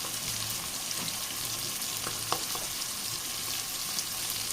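Mackerel fish frying with capsicum in a pan gives a steady, dense sizzle throughout, with a few faint clicks of a utensil near the middle and no talking.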